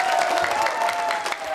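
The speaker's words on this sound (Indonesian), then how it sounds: "Boleh tepuk tangan dulu?" Audience applause at a televised mayoral debate in Ternate, 2024: a dense, steady wash of many hands clapping from a crowd, brief and fairly loud, with a little cheering mixed in.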